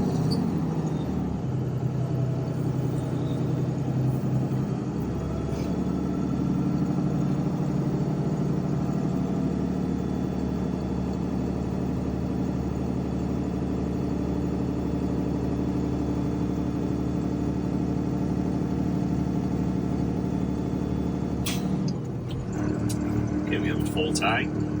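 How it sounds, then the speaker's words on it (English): A Class B truck's diesel engine hums and revs steadily for a long stretch to build up air pressure, a continuous low droning rumble with a clatter of small noises near the end. "So I'm gonna rev the truck up."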